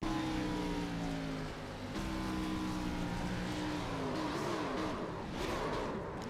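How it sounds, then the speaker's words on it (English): Race cars in an All-American Cup Series race at New England 225, engines droning loud and close, with pitch dropping through downshifts as drivers work the gearboxes to slow down. "Listen to both drivers working the gearbox, trying to keep the car off of the wall and other cars, get it slowed down"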